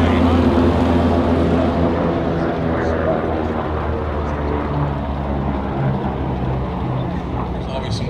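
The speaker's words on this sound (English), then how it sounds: "the distinctive sound of the Franklin air-cooled engines" A Northrop Flying Wing passes at an airshow, its Franklin air-cooled piston engines giving a loud, steady droning roar that holds for several seconds. A commentator talks over the engine noise.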